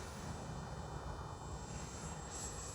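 A Freewing F-22 70mm RC jet in flight just after takeoff, its ducted-fan whine a steady, fairly faint broadband roar that holds even throughout with no break.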